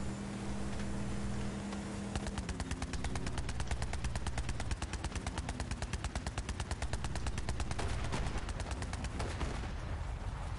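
Rapid, steady bursts of weapon fire from rockets launched in Borderlands 3, a dense rattling barrage that runs nearly the whole time, loud and close with no talking.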